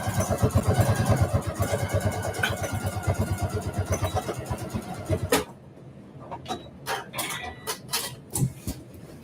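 A sewing machine stitches close to the fabric edge with a fast, even mechanical chatter for about five seconds, then stops, leaving a few scattered clicks and fabric handling noises.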